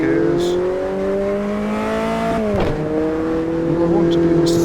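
A race car in the Automobilista 2 sim lapping the Nürburgring Nordschleife revs hard through its gears, a loud, steady engine whine that briefly dips at a shift before climbing again.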